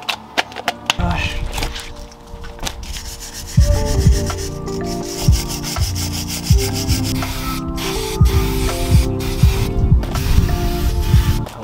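Stiff brush scrubbing brake parts on a Renault Clio after a spray of brake cleaner, close rough rubbing strokes repeating in an uneven rhythm with occasional knocks and brief hissing.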